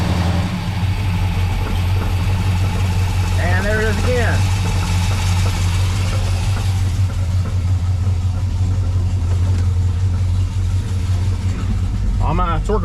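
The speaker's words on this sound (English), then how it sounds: "Rev it up just a little bit." 1970 Dodge Charger V8 idling loudly and steadily close by after a torque converter swap, a deep rumble with no clear rise in revs, while voices speak briefly over it.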